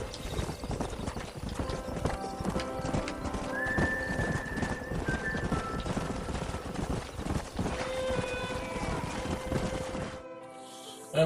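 Horse hooves clip-clop steadily with several whinnies in Red Dead Redemption, a Western video game, loud and continuous for about ten seconds before cutting off.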